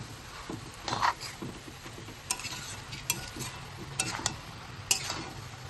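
A spatula stirs masala for a banana-flower and paneer ghant in a heavy kadai that keeps spinning. Sharp knocks and scrapes come at irregular intervals over a faint sizzle.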